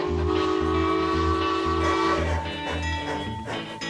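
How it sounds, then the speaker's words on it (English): A train passes near a ranch airstrip, its horn blaring in long sustained tones over a deep rumbling engine, loud and close, then the horn fades into wheel and track noise. "Is that a train?"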